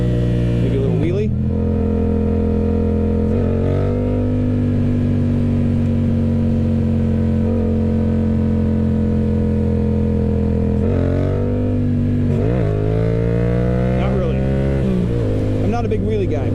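A 2021 Yamaha MT-07 motorcycle engine drones loudly and steadily, with throttle blips and rising revs around a power wheelie; a voice talks over it throughout.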